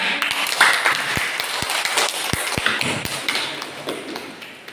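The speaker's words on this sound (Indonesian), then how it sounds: "Tepuk tangan." Scattered claps and taps in a classroom, a handful of sharp hits over a steady room murmur, fairly close but not a full ovation.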